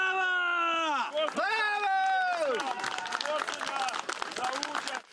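Spectators clap and cheer at an outdoor reenactment of the 17th-century battle of Korsun, with dense, steady applause running under loud shouting and singing voices for about five seconds.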